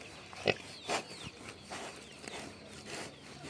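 A pet boar named Zhorik grunts while being fed, giving a few short, close snorting grunts spaced over a few seconds against a quiet outdoor background.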